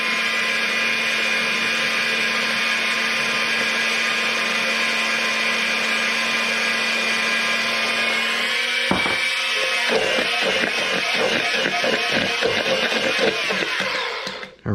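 A blender whirs loudly and steadily while oil is blended into mayonnaise. The pitch shifts and grows rougher near the end as the blade is lifted through the thickening emulsion.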